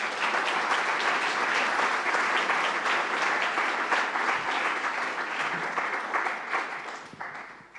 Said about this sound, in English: So let's give a big round of applause for Brian D'Alessandro.